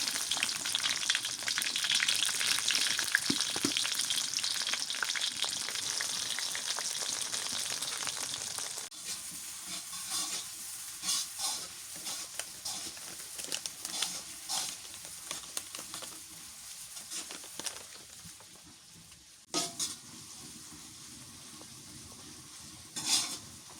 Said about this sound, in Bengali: পেঁয়াজ কুচি করে দিই।